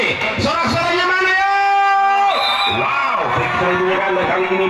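A crowd at a youth tournament match cheers and whoops loudly and continuously, with shouting voices rising and falling throughout.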